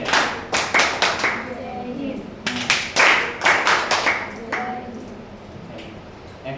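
A class of children perform the Jai Hind clap, a rhythmic series of crisp group claps in uneven clusters, close and fairly loud, with a few young voices between them.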